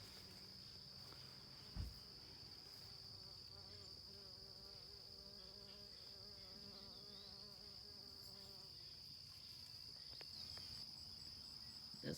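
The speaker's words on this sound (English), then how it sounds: "Bees chased me out of that area." Bees buzz continuously around the listener, a steady insect drone with individual buzzes passing close, faint and outdoors.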